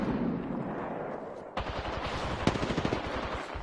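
Rapid bursts of automatic gunfire in a shooter video game, a dense rattling volley that starts suddenly and continues with sharp cracks over a low rumbling backdrop.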